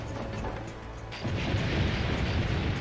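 Cannon explosions in the Assassin's Creed: Brotherhood video game: a quieter rumbling stretch gives way to a loud, sustained burst of booming blasts and crackling debris, with no talk.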